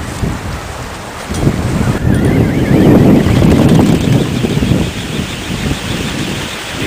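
Homemade wind turbine propeller blades spinning in the wind at a test site, a loud, steady whooshing roar with rising and falling gusts and heavy wind buffeting on the microphone, no voices.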